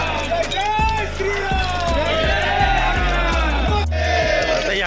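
A large crowd of trekkers heading toward the foot of Ekvira on a Lohgad to Bhivgad trek sets off together, a dense, loud wall of voices with rhythmic, chant-like pulses running throughout.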